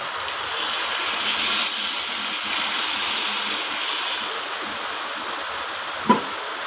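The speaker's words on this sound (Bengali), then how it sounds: "এরপর আমি জল দিয়ে দেব পরিমাণ মতো।" Water pours in a steady hissing stream into a pot of potato, pointed gourd and soybean curry, continuous and close, ending with a brief knock near the end.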